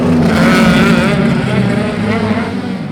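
Mazda RX-3 race car engine roaring loud and close during a feature race at a motorsport festival, a sustained high-revving drone that holds steady throughout.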